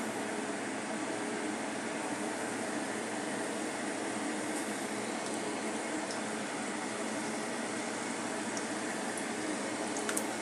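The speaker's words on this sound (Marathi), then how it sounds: "अशा प्रकारे मी तळण्यासाठी ठेवले आहे" Potato samosas sizzle steadily in moderately hot oil, one at a time, a continuous close crackling hiss that holds unbroken throughout with no voices.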